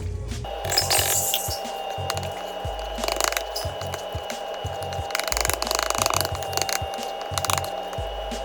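A can of crushed tomatoes being opened with a can opener, a close, rhythmic ratcheting click repeating steadily as the handle turns, with no talking.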